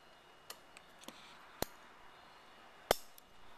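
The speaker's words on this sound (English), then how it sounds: "The clicking noise is just the cable back here rubbing against the spokes." Sharp mechanical clicks of a bike cable rubbing against wheel spokes at irregular intervals, a few light ticks then two louder snaps, close by over a quiet background.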